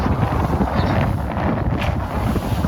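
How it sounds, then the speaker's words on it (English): Strong 18-knot wind buffeting a reefed sailboat under engine at sea off Harwich, a steady loud rushing roar with low microphone rumble throughout and no voices. "18 knots of wind."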